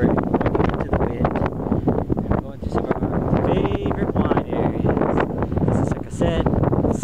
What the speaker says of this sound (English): Now we're on the section of the road where we're going into the wind.